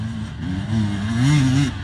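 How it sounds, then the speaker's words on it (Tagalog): A trail motorcycle revving at a pro trail riding site, its engine note rising and wavering in pitch over a couple of seconds, fairly loud and close with no talk over it. "O si Mascareñas, ibang motor ang ginamit."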